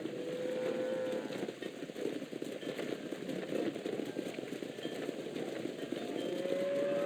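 Cattle in Red Dead Redemption low across a noisy herd scene, with drawn-out moos rising over a dense rumble of hooves and movement.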